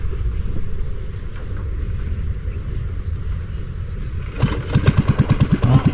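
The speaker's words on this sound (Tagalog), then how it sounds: "Bakit anda rin ng makina nila." A wooden bangka boat's engine runs with a low steady drone, then shifts into a loud rhythmic chugging pulse as it revs up near the end, with no talking.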